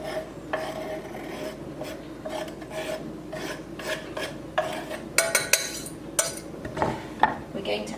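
A lemon is zested for a treacle tart, heard as a series of close, scratchy rasping strokes against a grater, irregular but continuous, with occasional light metallic taps and no speech.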